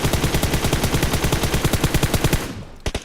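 A fully kitted M4 rifle firing full auto in a video game, a loud rapid burst of evenly spaced shots for over two seconds, then a brief pause and two final quick shots.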